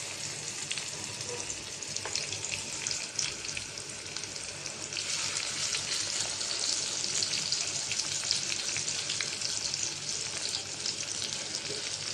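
Koi fish, coated in turmeric, chilli and salt, fries in oil in a pan with a steady, dense sizzle and crackle that holds at an even level throughout, with no talk.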